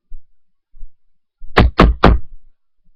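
Three firm knocks on a door in quick succession, close and loud, preceded by a couple of faint soft taps, with silence around them.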